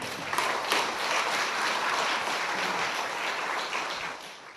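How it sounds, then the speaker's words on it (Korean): A church congregation gives a big welcoming round of applause for a guest speaker about to share a testimony, a dense, steady wash of clapping that holds evenly for the whole stretch and tapers slightly near the end. "우리 나오실 때 큰 박수로 한번 환영하겠습니다."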